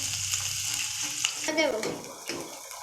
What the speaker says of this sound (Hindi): ऑयल गर्म हो जाएगा तो हम प्याज डाल देंगे फ्राई करने के लिए